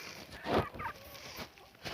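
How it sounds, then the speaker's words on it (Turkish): Domestic turkeys gobble in a backyard flock kept with laying hens, a single loud bubbling gobble rising near the middle of a short stretch over low yard noise. "ispençlerimizi de göstereyim istedim"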